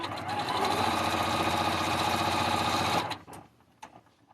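A domestic sewing machine stitches a quilt block in one steady, loud continuous run for about three seconds, then stops, leaving a few faint handling clicks and fabric rustles.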